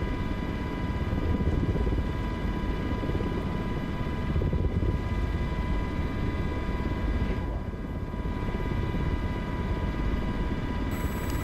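An MH-60 helicopter hovers over the sea during a rescue mission in a flight simulator video game, its rotor and engine producing a loud, steady, unbroken drone with a constant whine layered on top.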